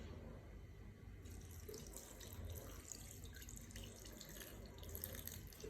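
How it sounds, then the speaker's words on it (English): Water pours steadily from a tap into a bowl of re-pounded palm nuts for palm nut soup, a continuous soft rushing and splashing heard close up with no talking. "So I'm going to add a good amount of water."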